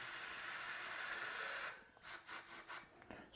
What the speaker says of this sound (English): So you shake well, and it is gonna spray a little bit all over the place.